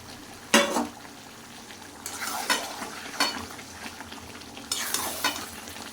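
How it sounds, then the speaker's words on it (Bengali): Chicken kosha with tomato and potatoes fries in a pan with a low, continuous sizzle. Several distinct scraping stir strokes rise above the sizzle at intervals, close and moderately loud, with no talking. "তারপর নেড়ে দেবো আমি"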